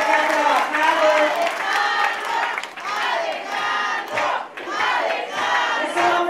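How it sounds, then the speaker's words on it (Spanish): Crowd at a political rally in Tláhuac cheering and chanting in unison, loud rhythmic bursts of voices with some clapping, rising and falling in waves up close. "Alejandro López Villanueva, que le pido un aplauso."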